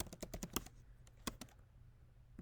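Keys clatter on a computer keyboard as code is typed in quick bursts of close, crisp clicks, pausing briefly between short runs.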